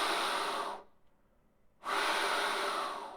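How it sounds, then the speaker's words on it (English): Airy, breathy rush of air blown through a saxophone fingered on low F with no tone, two sustained hissing breaths separated by a short quiet pause, close and fairly soft. "Start by fingering a low F on your saxophone and blowing air into the horn"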